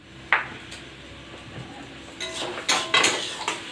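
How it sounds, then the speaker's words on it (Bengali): A wok of red amaranth greens and ground pea lentil paste being stirred gives a few sharp metallic clanks and scrapes, one near the start and a busier cluster toward the end, with quiet gaps between. "ডালটা শাকটা একসঙ্গে পুরো মিশিয়ে নিয়ে নাড়তে থাকবো এটা।"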